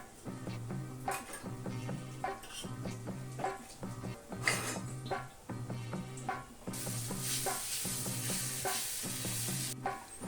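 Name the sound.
adai batter cooking on a tawa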